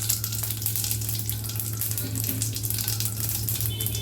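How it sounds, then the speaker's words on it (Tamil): Lentils, cumin and dried red chillies fry in hot oil for a watermelon-rind kootu, giving a steady, close, dense sizzle throughout with a faint low hum beneath and no talking. "இது நல்லா இப்போ வறுபடணும் இப்போது நல்லா வறுபட்டுருச்சு இதில் ரெண்டு காஞ்சி மிளகாய் போடுறோம்"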